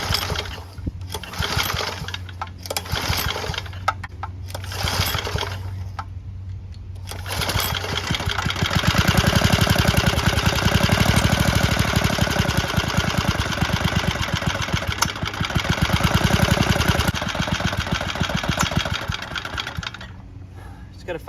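A restored Rupp minibike's small engine sputters through starting attempts, then settles into a loud, steady idle that runs for several seconds, close by and alone without any talk.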